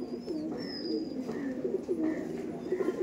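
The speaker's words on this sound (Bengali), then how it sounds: "আর এটা নর পায়রা" A male pigeon coos in a repeated, low, throaty rhythm, several calls in a row from close by, with faint chirps from other birds in the background.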